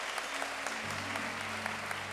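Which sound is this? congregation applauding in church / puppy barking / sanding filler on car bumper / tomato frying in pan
congregation applauding in church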